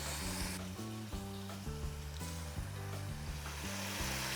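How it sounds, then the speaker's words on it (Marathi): Chopped onion and tomato cook in a hot pan for chole biryani, a soft, continuous sizzle and hiss heard up close with faint stirring, no talking. "आपण आता त्याच्यामध्ये टमॅटो घालूयात कांदा आणि टोमॅटो चांगले शिजवून घेऊयात"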